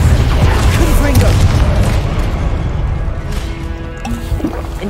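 Confringo blasting spell explosions in the Hogwarts Legacy video game, a loud, dense barrage of booming blasts and crashes that fills the clip and eases slightly toward the end.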